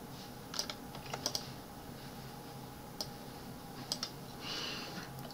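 Computer keyboard keys pressed while editing in Word 2019: sparse clicks and short clusters of taps, quiet and close, over a low steady room hum, no talking.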